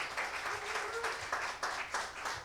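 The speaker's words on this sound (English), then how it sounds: "Y'all clap it up for her." An audience at a GOP political rally claps for a county chairwoman, a dense burst of applause lasting a couple of seconds, fairly loud and continuous with slight swells.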